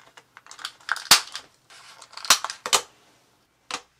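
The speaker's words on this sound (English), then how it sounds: "I'm going to cut all the corners with a round corner punch." Paper corners being cut with a round corner punch, giving a handful of sharp, separate snipping clicks with short quiet gaps between them, close and fairly crisp.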